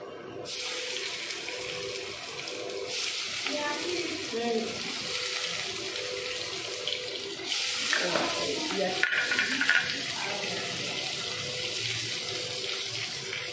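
Chopped onion and dried red chillies frying in hot oil in a pan, a steady loud broadband sizzle that swells briefly as the onion goes in, continuous throughout.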